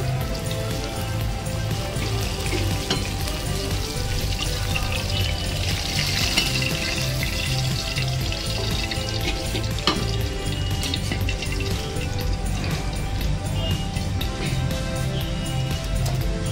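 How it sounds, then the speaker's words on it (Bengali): Fish frying in hot oil makes a loud, dense, continuous sizzle and crackle that holds steady the whole time, with no voices. "মাছগুলো আমার সুন্দরভাবে ভাজা হয়ে গেছে।"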